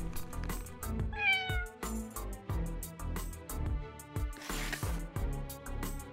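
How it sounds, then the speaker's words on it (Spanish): A cat meows loudly over a busy, rhythmic musical backing, its voice rising and sliding in a clear, drawn-out call. "Espero que ese gato no me ataque."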